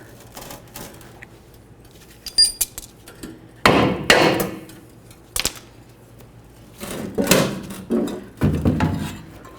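A hammer strikes a brass punch against a metal fuel tank strap clip on a 1994-2004 Chevy S-10 in a few sharp, uneven blows, ringing and metallic, with some quieter handling noise between strikes.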